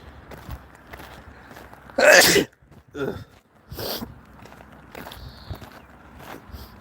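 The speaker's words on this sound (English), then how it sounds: "I feel like I'm gonna sneeze again." A single sharp sneeze bursts out near the microphone amid quiet outdoor background noise, followed by softer breathy sounds and faint shuffling.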